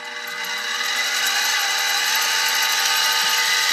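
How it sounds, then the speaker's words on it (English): A SIEG X2D benchtop milling machine starts up for drilling, its motor and gear train whining steadily and fairly loud, holding an even, continuous tone with no talking. "So we'll go ahead and start up the mill."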